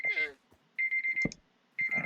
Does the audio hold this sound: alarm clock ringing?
yes